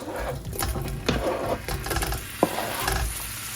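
Sausage hitting a pot of hot butter and oil sizzles close up, overlaid by rattling clicks and scrapes of a utensil and one sharp knock, with no speech.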